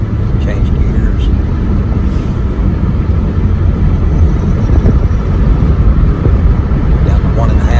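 Dodge engine running steadily as the vehicle drives and shifts gears around 2,000 RPM, a continuous loud low rumble with road noise filling the whole stretch.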